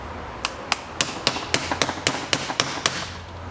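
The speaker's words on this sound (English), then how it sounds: "kind of just tapping at it with a hammer and a knife, trying to get this thing started here and get her open" A hammer taps a knife against a part clamped in a vise, roughly a dozen sharp metallic strikes in quick, slightly uneven rhythm, close and loud.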